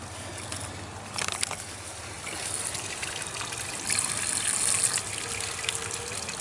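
A well pump runs steadily, recirculating water through its line during chlorine disinfection, with a continuous rushing, trickling flow and a brief surge partway through.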